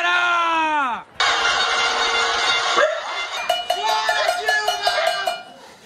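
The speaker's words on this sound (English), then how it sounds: "Her critics had organized a kind of pot-banging protest" A pot-banging panelazo protest in São Paulo, with rhythmic metallic clanging of pots ringing out in repeated bursts through the second half, over a dense background of crowd noise and voices.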